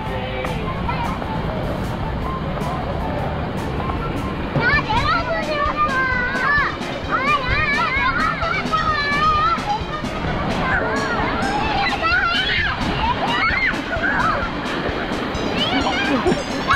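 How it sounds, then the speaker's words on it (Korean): Busy wave pool with children shouting and playing amid crowd babble and steady rushing water, loud and continuous throughout. "파도풀이에요. 아, 파도풀."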